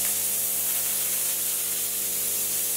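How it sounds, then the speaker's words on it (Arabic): Steam cleaner (2850 ml model) set to its second, higher output level, giving a steady, loud, continuous hiss of spraying steam throughout, with no talking. "بنضغط الضغطة الثانية بدنا نزيد كمية البخار"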